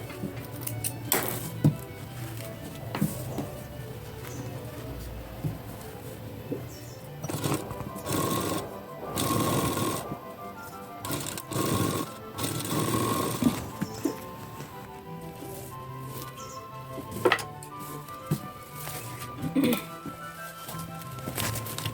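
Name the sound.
sewing machine stitching a blouse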